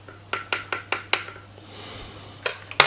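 A lid set down over a container of homemade fishing scent liquid, ending in a couple of sharp clinks of lid against the rim after a run of light glassy taps, close and fairly quiet with no talk.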